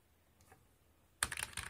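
Rapid clattering keystrokes on a computer keyboard in a quiet office setting, a burst of close typing that starts abruptly and continues with uneven rhythm, heard alone.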